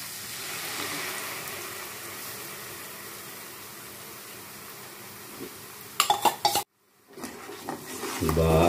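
Tomato puree frying in a pan for a soya chunk curry, a low continuous sizzle with quiet stirring, then louder clattering of a spoon against the pan near the end after a brief gap.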